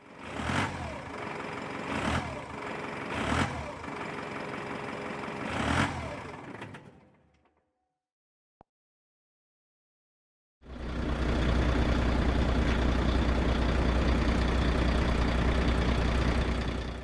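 A big rig semi truck engine rumbles and idles with several sharp hisses or clanks, cuts out to near silence for a few seconds, then returns as a loud, steady low drone.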